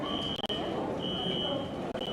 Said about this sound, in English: That better not be a fire alarm.